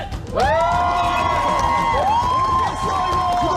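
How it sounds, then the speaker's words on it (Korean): Loud crowd cheering and whooping from a magic-show audience rises sharply and carries on for several seconds, a dense mass of overlapping voices with a brief dip before continuing. "여러분의 큰 함성이 필요합니다"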